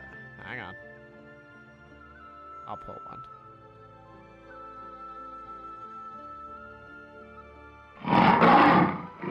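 A lion-like roar sound effect played for a fighting chimera during a tabletop game session bursts out loud and raw near the end, after quieter background music and brief sounds.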